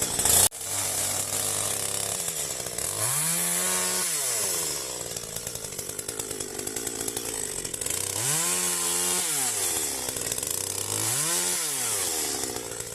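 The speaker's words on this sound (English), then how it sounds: "I could hear a chainsaw running. I thought, oh, that's close." A chainsaw runs close by on a farm in Portugal, droning continuously and loud, with three distinct rev-up and drop cycles as the throttle is squeezed and released.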